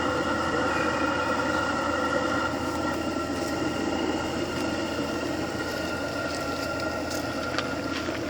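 A G-scale model train runs steadily, giving a continuous close mechanical rumble with faint ticking and clicking over a level hum.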